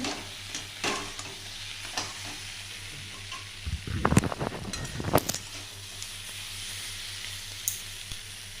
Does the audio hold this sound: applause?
no